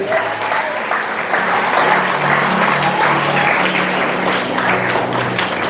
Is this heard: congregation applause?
yes